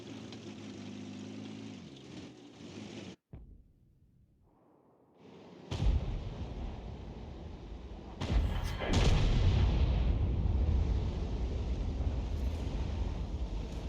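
Conqueror Gun Carriage self-propelled artillery firing a shell in a tank video game, engine hum cut by a brief lull, then a heavy thumping blast and rumbling roar that lingers under engine noise.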